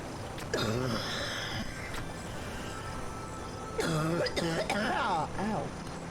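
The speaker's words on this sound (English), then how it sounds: "the coughing is because I'm sick." A person coughs and clears their throat in a couple of harsh bursts, with some voice mixed in.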